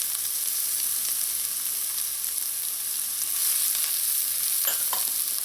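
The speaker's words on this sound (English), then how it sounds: "So my onions have started to turn translucent," Onions with garlic sizzling in a hot pan for ackee and saltfish, a steady bright crackle of frying throughout with a few louder spits near the end, no talking.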